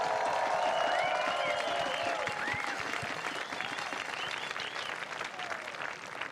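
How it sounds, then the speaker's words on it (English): Crowd applause at the finish line of the 2022 Western States 100 for women's champion Ruth Croft, steady clapping with some cheering and whistles, continuing throughout with a faint voice over it. "Big round of applause."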